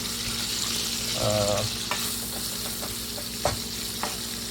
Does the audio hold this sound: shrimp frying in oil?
yes